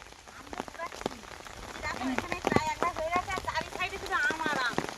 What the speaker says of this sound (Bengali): বৃষ্টি এসে গেল